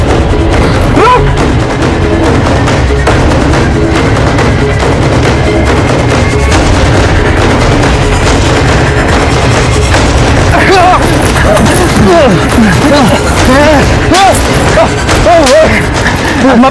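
Gunfire in a Hindi crime drama scene: dense, continuous loud shots and booms layered over a dramatic music score, sustained throughout without a break.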